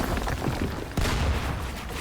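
Gunfire in the video game Fortnite crackles as a dense burst of shots, with a sharp louder crack near the middle of a short, busy stretch.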